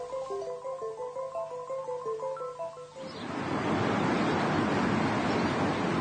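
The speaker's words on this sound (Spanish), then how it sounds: "Consideremos, por ejemplo, este veloz arroyo de montaña." Fast, turbulent mountain stream rushing with broad steady noise, coming in after the first three seconds of plucked instrumental music and continuing loud to the end.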